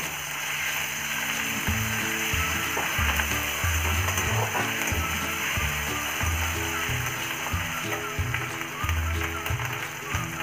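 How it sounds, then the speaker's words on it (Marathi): A spoonful of ginger-garlic paste frying with onions in a pan for a Maharashtrian potato curry, a continuous sizzle with a repeated rhythmic scraping and clacking of a spatula throughout. "त्यामध्ये आता आपण एक चमचा अद्रक लसूण पेस्ट ऍड करणार आहोत आणि 15 ते 20 सेकंद तिला पण छान"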